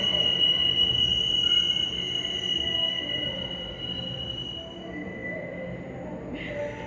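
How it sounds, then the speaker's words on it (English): A train passing close by, with loud sustained high-pitched wheel squeal over a continuous rumble of rolling railcars that slowly eases off. "I'll wait till the train goes by"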